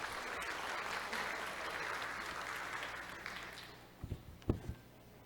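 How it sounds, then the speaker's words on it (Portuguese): Audience applause at a panel discussion event, steady clapping that fills most of the stretch then thins out, ending in a few scattered separate claps. "Uma salva de palmas."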